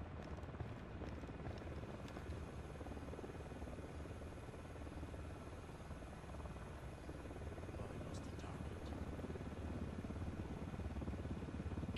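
Helicopter flying overhead in the Ghost Recon Wildlands video game, a steady rotor drone and engine hum filling the whole clip at low level, continuous and unbroken.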